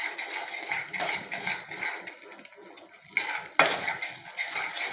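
A spatula stirs sugar-diet upma in a pan over a low gas flame, giving a steady run of close scraping and clinking taps that swell again near the end.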